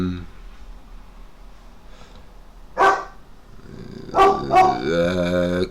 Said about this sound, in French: il y a le chien qui s'énerve